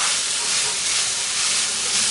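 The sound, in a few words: onion cooking down in a pan with salt and pepper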